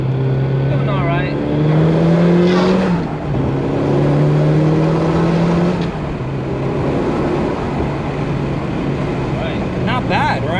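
A Nissan 240SX works through an autocross course, engine droning and rising and falling in pitch as the driver accelerates between gear changes, loud and close from inside the car.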